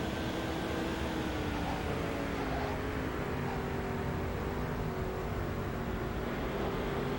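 A race car engine drones at a steady high pitch in NASCAR 2005: Chase for the Cup, a continuous, even whine with a slight pitch drift under constant rushing noise, loud and unbroken, with no voices.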